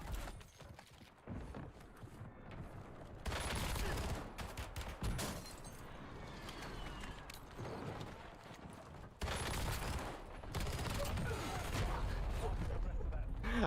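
Gunfire in the video game Warzone Resurgence, with bursts of rapid automatic shooting in two long stretches, moderately loud and close, while a voice talks over parts of it.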